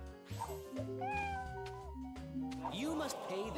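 Cartoonish cat meows from the Monopoly Plus board game rise and fall a few times over steady game music, close and fairly loud, with people talking over it.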